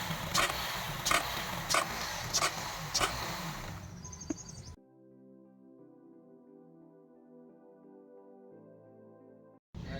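A Honda City i-VTEC petrol engine with a loose belt rattles close up in a steady, rhythmic series of knocks for about five seconds, then gives way to a smooth tonal hum.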